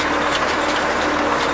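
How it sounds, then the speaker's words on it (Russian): CLAAS Roland 46 round baler picking up hay while towed by a tractor, heard from inside the cab as a steady, droning engine hum with faint rhythmic mechanical clatter. "Пресс подбирает"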